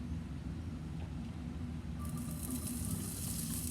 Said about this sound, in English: I'm gonna put my 1/4 cup onions into the pan and start sauteing them until they're till they're kind of crispy